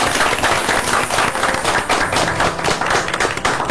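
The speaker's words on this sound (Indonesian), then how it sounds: "Tepuk tangan dulu." A studio audience at a live Indonesian health talk show about childhood bone cancer breaks into loud, dense applause, a continuous roar of clapping with no pause.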